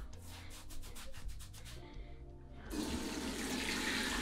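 Rubbing and scrubbing on a beard with shampoo are followed by running tap water splashing steadily over it at a sink, close up and fairly quiet.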